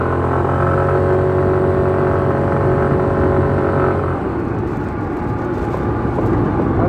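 A Suzuki Burgman Street 125 scooter engine hums steadily while making a U-turn on a wide road, droning close by, with the tone shifting and roughening slightly partway through.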